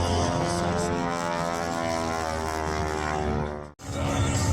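Propeller aerobatic airplane flying at the Miramar Airshow, a loud steady droning engine roar that holds throughout before a brief cut and resumes.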